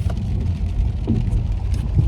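Rain falls on a car while driving, a steady dense patter over a constant low road and engine rumble that fills the whole stretch without pause.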